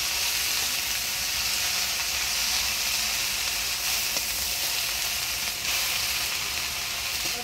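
Potatoes, raw tomatoes, peas and green chillies sizzle steadily in a hot pan, a loud continuous frying hiss with no talking.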